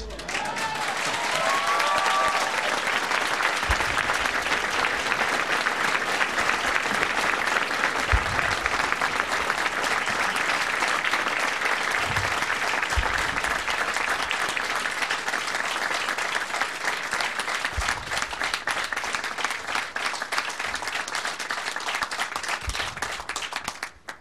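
A large audience at a President Obama event applauds and cheers, a dense, sustained roar of clapping that stays loud and steady for over twenty seconds.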